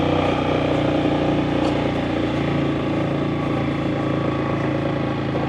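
A motorcycle engine runs steadily near the rider before setting off toward Khao Sok National Park, a continuous loud rumble with no talk over it.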